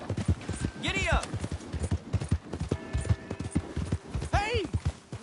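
Horse hooves clip-clop in Red Dead Redemption 2, a quick rhythmic run of close, distinct hoofbeats broken by two whinnies, with someone talking over them.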